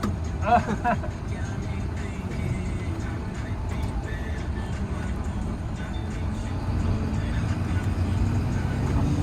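Steady low engine rumble and road noise from a Unimog expedition camper truck being driven, a continuous close drone with voices talking at times over it.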